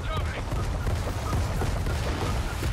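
Gunfire in Gears of War 4, a continuous loud barrage of shots and booming impacts blended with rumbling combat noise, with voices talking over it.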